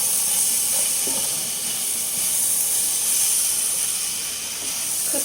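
Sauce simmering and reducing in a hot pan gives a constant loud sizzling hiss with faint bubbling pops, steady and close throughout with no talking.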